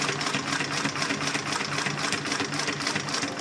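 A Brother LS2 B837 unison feed lockstitch industrial sewing machine stitching through eight layers of vinyl with lengthened stitches, running with a loud, fast, steady mechanical chatter and rhythmic needle beat, close up with no talking.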